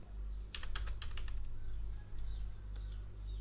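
A computer keyboard types text into a PDF in Microsoft Edge: a quick burst of soft keystrokes, a pause, then a couple more taps, faint and close over a low steady hum.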